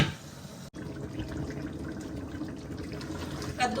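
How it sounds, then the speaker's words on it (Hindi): Reserved lentil cooking water being poured over pumpkin in a cooking pot, a steady close splashing pour after a brief clunk, with faint kitchen background. "जो पानी हमने दाल में से निकाला था थोड़ा सा पानी उसी में से शामिल करेंगे"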